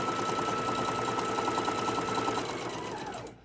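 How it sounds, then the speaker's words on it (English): Sewing machine stitching fabric runs in a fast, steady mechanical rattle close by, then slows and stops abruptly at the end. "I'm going to go ahead, start my sewing. I'm going to do a little back stitch there"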